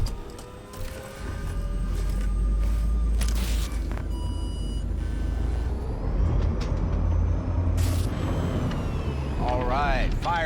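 A Panzer vehicle in Cyberpunk 2077 fires up with a low, heavy engine rumble that builds and holds steady, with mechanical clunks and hisses over it, while voices talk on top.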